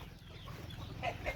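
Chickens on a rural farmstead give two short, soft clucks near the end, moderately close, over a low murmuring background with no speech.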